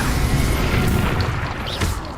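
Fire spell in the video game Hogwarts Legacy, a dense, loud booming burst of flame that fills the short moment and fades slightly at the end.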